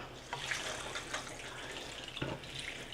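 Water pours steadily into a cooking pot holding black-eyed peas on a stovetop, a soft continuous splashing stream with a few louder gushes.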